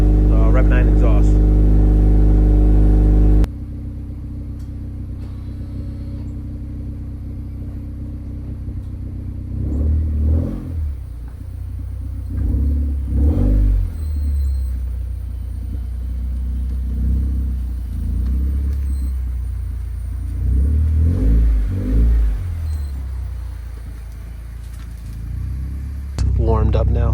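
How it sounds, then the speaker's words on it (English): Honda Accord 2.0T with a six-speed, an RV6 downpipe, PRL front pipe and aftermarket exhaust, cold-starting with a loud burst, then settling into a steady low idle rumble while people talk over it. "Cold start for the downpipe, front pipe, and then the RV,"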